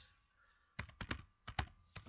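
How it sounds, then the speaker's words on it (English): Typing on a computer keyboard while entering a server address into a Linux terminal: several close, sharp clusters of key clicks in uneven bursts after a brief quiet start, with no talking. "I'm just typing in the address of the server"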